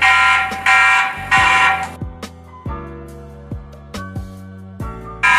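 A loud electronic alarm from a TP-Link Tapo C320WS security camera siren blares in bursts, with harsh buzzing blasts alternating with repeated descending beeps at a steady rhythm; no voices.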